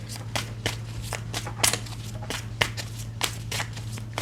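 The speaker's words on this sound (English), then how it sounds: "I'm not going to shuffle till tomorrow, universe." A tarot deck being shuffled by hand: soft riffling rustles and taps come in repeated quick bursts over a low steady hum, quiet and close.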